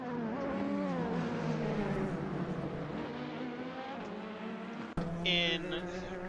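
An Oreca 07 LMP2 race car in a racing video game, its engine droning steadily with shifting pitch, dipping briefly as a gear change cuts in near the end.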